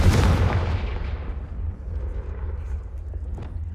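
A Confringo fire spell explodes in Hogwarts Legacy on Xbox Series X: a loud, close burst that hits at once, then rumbles and decays into a fading tail over a few seconds.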